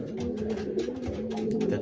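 Racing pigeons cooing inside a loft, several soft, low, rolling coos overlapping close by, with faint rustling and no voices.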